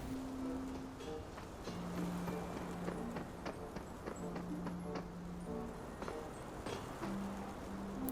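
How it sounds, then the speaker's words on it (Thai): In the shooter game Arena Breakout, running footsteps patter quickly and steadily at low volume over a constant background hum. "เสียงเท้าวิ่งอยู่ข้างหน้าครับ"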